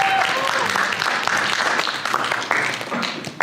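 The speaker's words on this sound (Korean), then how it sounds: "우리 박수 한번 치겠습니다." A crowd claps steadily for a few seconds at an evening church prayer meeting, dense applause filling the room, with some voices mixed in.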